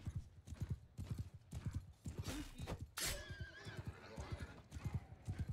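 Horse hooves clip-clop in a rapid, steady gallop rhythm in the multiplayer PvP game Bannerlord Online, loud and close, with a brief whinny and bursts of combat noise partway through.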